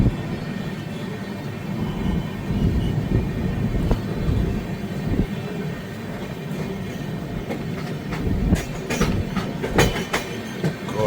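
Himasagar Express train running on rails in India, a steady, loud rolling rumble of wheels with sharper clacks and rattles bunching up near the end, with no voices.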